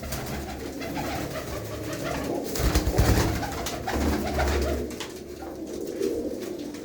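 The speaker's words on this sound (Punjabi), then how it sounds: "ਇਹ ਕਬੂਤਰ ਆ ਕਾਲਾ ਚੀਨਾ ਕਬੂਤਰ ਆ" Low, soft coos from black Cheena pigeons roll on and off throughout, mixed with a faint rustling background, fairly close by.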